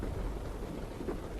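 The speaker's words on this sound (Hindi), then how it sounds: "एक शाम तीनों बैठकर सुमन के घर पर चाय पी रही होती हैं कि तभी बहुत तेज बारिश शुरू हो जाती है।" A very heavy downpour falls in the evening, with a dense, steady roar of rain and a low rumble that may be thunder. The sound is continuous, and no one speaks.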